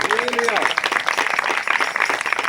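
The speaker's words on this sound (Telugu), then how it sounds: "బిగ్గరగా చప్పట్లు తట్టి, బిగ్గరగా చప్పట్లు తట్టి." A church congregation clapping loudly in unison during a Telugu sermon, a dense run of claps under a preacher's loud voice.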